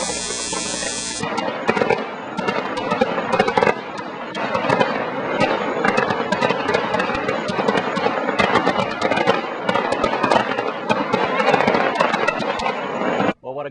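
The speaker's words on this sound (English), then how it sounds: "Carnival on St. Thomas with some fireworks." Carnival fireworks over St. Thomas crackle and pop in dense, continuous volleys of sharp bangs and firecracker-like bursts for over ten seconds, heard from a moderate distance amid crowd noise.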